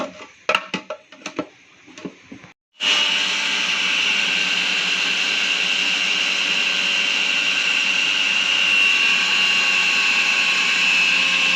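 A Preethi mixie grinder starts after a few clattering knocks and then runs loud and steady, a continuous high motor whine close by for about nine seconds while a chicken gravy is being made.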